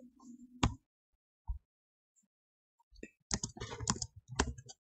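C++ code is typed on a computer keyboard in a sparse pattern: a single sharp click, a lone tap, then a quick cluster of keystrokes near the end, close and crisp against near silence.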